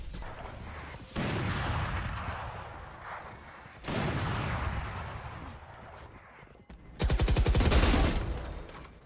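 Video game gunfire crackles in loud, dense bursts, broken by short pauses and ending in a rapid, sharply repeated volley.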